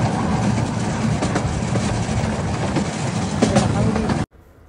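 Small engine-pulled ride-on train in London rumbling and rattling steadily for about four seconds, fairly close and loud, with clickety wheel noise throughout, then cutting off abruptly to near quiet; voices are faintly mixed in.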